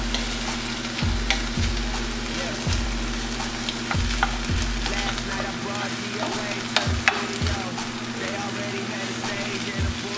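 Onions and corn stirred in olive oil in a pan over medium-high heat; a steady sizzle carries a series of distinct scraping and clacking strokes, fairly close and moderately loud.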